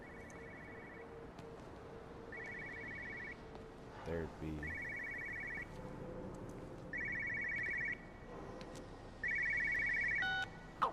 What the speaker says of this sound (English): Where's their phone?